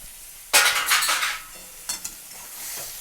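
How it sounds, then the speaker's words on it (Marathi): Salt being stirred into eggplant bharta in a kadhai: a spoon scrapes and clinks against the metal pan in a burst of stirring strokes, then a few lighter taps before it quiets. "मीठ टाकून छान असं मिक्स करून घेते"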